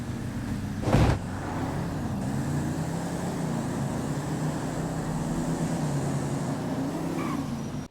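Car engine in a drag race in the video game GTA V, revving with a wavering pitch as it accelerates, steady and moderately loud after a brief burst near the start, with no voices.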